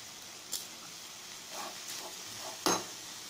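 Cabbage sautéing in a pan for a Tamil kootu, with salt added, giving a quiet steady sizzle and a few soft stirring scrapes and taps.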